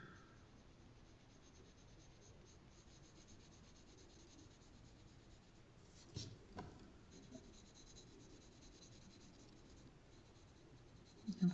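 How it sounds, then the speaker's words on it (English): Mechanical pencil shading on paper in a drawing demonstration: soft, continuous scratchy rubbing strokes, faint and close, with a few brief louder taps. "I'm kind of going over the mechanical pencil that we put there, kind of fading it into what we have"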